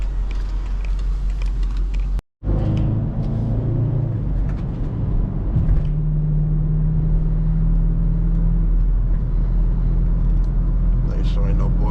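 A BMW X5 50i drives along a road, its engine a steady low rumble with a brief dropout, then a sustained droning tone as it pulls, with people talking inside the cabin over the noise.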